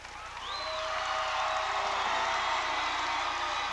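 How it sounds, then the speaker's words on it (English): Steady applause from a gymnasium crowd at a 1992 state high school boys basketball championship, building quickly and holding at an even, moderate level, welcoming the Hastings non-starters. "let's be generous in your applause for all of them"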